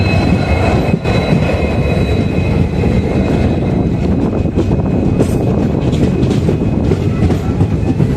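A train on a newly electrified line runs into the first platform of Ulloor station with a loud, unbroken roar and rattling wheels, rumbling on without pause.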